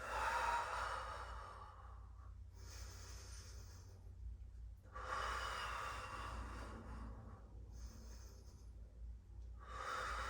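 Deep breathing during a Pilates exercise, with slow alternating breaths in and out, each lasting a couple of seconds, close and fairly soft over a low room hum.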